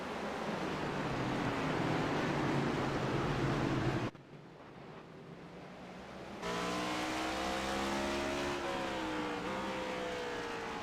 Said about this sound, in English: Hear that downshift there.